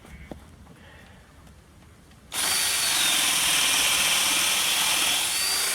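After a quiet start with faint handling noises, a power drill suddenly whirs up loudly and grinds steadily through wood, boring a 1-inch hole, close and continuous.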